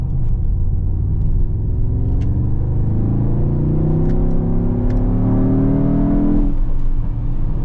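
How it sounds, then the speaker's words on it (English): A Mercedes-AMG GT63 hybrid V8 in Sport Plus mode accelerates hard on the German Autobahn. Heard loud from inside the car, the engine's deep drone climbs steadily in pitch, then drops at a gear change near the end. "Okay, driving on the Autobahn now. We'll be sticking it to Sport Plus."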